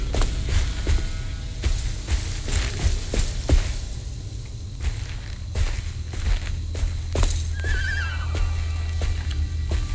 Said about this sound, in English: I heard a horse, so I know a horse is alive in this weirdo dimension